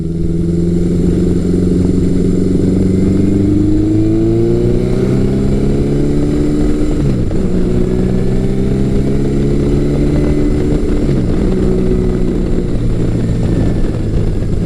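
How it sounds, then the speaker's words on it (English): A 1980s Yamaha motorcycle with a four-into-two exhaust accelerating hard, pitch climbing through several gear shifts with brief dips between, loud and close. "It accelerates nicely. Doesn't sound bad with the 4-into-2."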